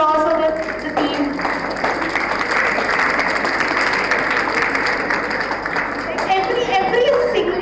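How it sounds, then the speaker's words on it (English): Audience applauding a team after a presentation at an event, a continuous wash of clapping that carries through, with a voice speaking over it at the start and end. "A big round of applause for the team."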